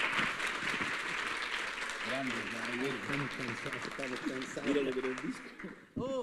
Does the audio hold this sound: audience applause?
yes